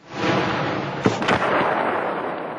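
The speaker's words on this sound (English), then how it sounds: "the heavy guns covering the bridges open up" Heavy guns covering bridges at Fallujah open up in a loud, roaring wash of distant fire, with two sharp blasts punching through the rumble near the middle.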